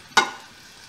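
Pork chunks hit a hot pan to sear for a crust, giving a sudden loud sizzling burst that quickly settles into a steady low hiss.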